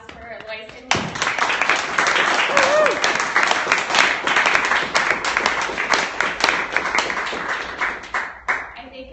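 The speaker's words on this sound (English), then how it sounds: "if everyone can join me giving a big round of applause for Loyce and" A big round of audience applause after a talk, dense sustained clapping from a crowd lasting most of the stretch, starting abruptly and tapering at the end, with a voice briefly audible at the start.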